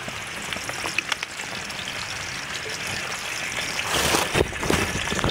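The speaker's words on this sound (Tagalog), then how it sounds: "Baka lumakas na yung ulan" Rain falling during outdoor cooking of ginataang tuway at karampag, a steady hiss of drops and patter that grows heavier and louder toward the end, with no talk.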